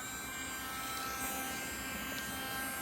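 A Dremel rotary tool, used to drill holes in seashells, runs at speed as a steady high-pitched buzzing whine, close and constant without pause, with no one talking.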